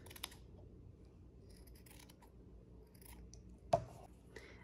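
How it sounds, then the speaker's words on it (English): Scissors trim the felt edge of an embroidery hoop backing in a quiet room, giving faint, intermittent snips and crisp cuts with one sharper clip near the end. "So I'm just gonna take my scissors and just carefully trim off some of the edge."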